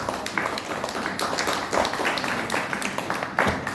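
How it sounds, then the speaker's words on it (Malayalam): Audience applause at a women's club Mother's Day honoring event, a steady wash of many hands clapping throughout with faint voices mixed in. "കൈയടിക്കാം."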